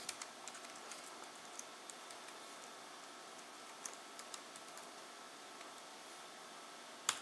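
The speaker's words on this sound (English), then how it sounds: "I'm going to type my password in here." Faint, irregular key taps on a Chromebook keyboard while a password is entered, soft clicks scattered over several seconds above a low hiss, ending with a slightly sharper tap.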